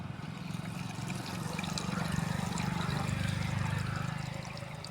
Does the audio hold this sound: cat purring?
no